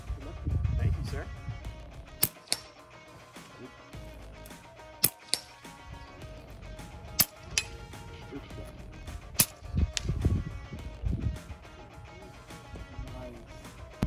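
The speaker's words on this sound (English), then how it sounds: "I'm shooting the Brocock Sniper Magnum XR." Brocock Sniper Magnum XR air rifle fired at an American field target airgun competition outdoors in Gilbert, Arizona, giving several sharp, isolated cracks spaced seconds apart amid talking and open-air background noise.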